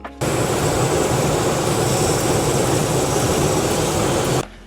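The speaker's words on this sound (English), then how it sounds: "Now if we turn the engine on, we should get some vacuum through that." The engine of a 1986 Toyota 4Runner runs at a steady, loud idle close by, starting abruptly and cutting off just before the end, with no talking.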